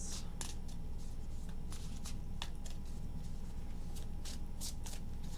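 A deck of tarot cards is shuffled by hand at close range, giving soft riffling and sharp slapping snaps that come in irregular bursts over a low steady background hum.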